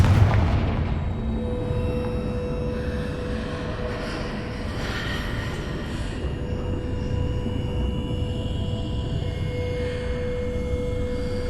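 A Confringo spell explosion in Hogwarts Legacy opens with a heavy booming blast, then a long rumbling, rolling tail and a steady low roar over eleven seconds.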